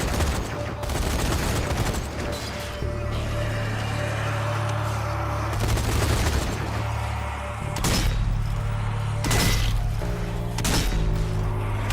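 Gunfire in Zombie Army 4: Dead War rings out as a busy, continuous stream of shots and booms over a low rumbling backdrop, with a few sharp, louder bursts standing out near the end.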